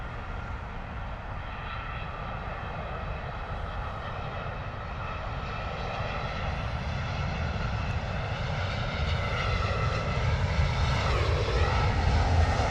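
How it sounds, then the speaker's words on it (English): A British Airways jet on landing approach at London Heathrow, arriving from Bucharest, gives a steady broadband engine roar with whining tonal bands that slowly grows louder as it nears, continuous and without talk. "Here you go, British Airways 885 coming in from Bucharest."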